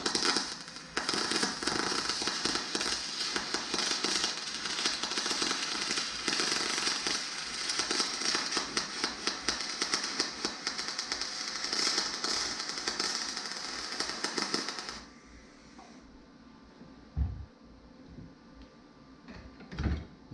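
A MIG welder lays a continuous weld joining two metal pieces, a loud, close, steady crackling buzz for about fifteen seconds before cutting off to quieter room noise with a couple of knocks.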